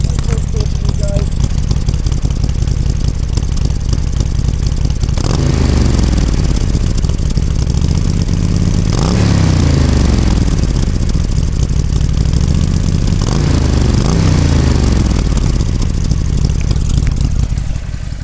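Harley-Davidson 48 motorcycle idling through aftermarket exhaust pipes, recorded close to the pipes: a loud, steady, deep rumbling idle with a few brief throttle blips swelling and falling away.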